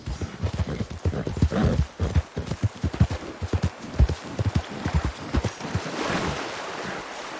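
Horse hooves clip-clop at a steady trot in the Red Dead Redemption 2 video game, close and rhythmic, with a soft wind-like wash of ambience rising toward the end.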